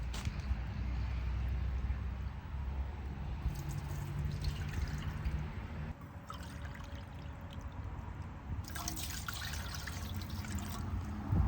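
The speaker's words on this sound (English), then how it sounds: "I am going to add 2 cups of apple cider vinegar" Apple cider vinegar is poured from a measuring cup into a cooking pot for candied jalapeños, a soft continuous trickle and splash heard close and fairly quiet over a low room background.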